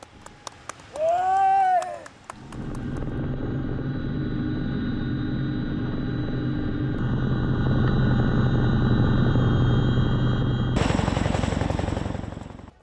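An Apache helicopter carrying ISRO's Pushpak spaceplane aloft gives a loud, steady rotor-and-engine roar that runs continuously for about ten seconds before cutting off, after a brief vocal sound at the start.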